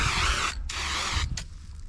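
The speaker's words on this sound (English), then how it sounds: "It's got a fan spray, which is perfect for Mr. Dummy because it covers a big swath versus little squirts." Spray can with a fan nozzle fired at close range: two long hissing bursts separated by a short pause, then a brief third puff.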